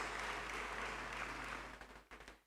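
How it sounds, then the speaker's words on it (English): Applause at an alumni lecture: a soft, distant, steady wash of clapping that thins into a few scattered final claps before fading out. "Please let's applaud them and acknowledge them one more time."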